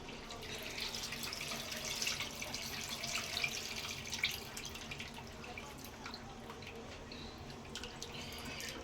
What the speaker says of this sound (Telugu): ఇప్పుడు చింతపులుసు అనేది వేసేసుకుంటున్నాను చింతపండు పులుసు